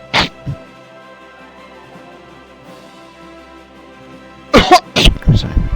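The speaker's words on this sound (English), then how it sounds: "Sorry, cough." A person with a chronic cough lets out a few short, loud coughs near the end, after a brief burst at the start and a stretch of quiet background.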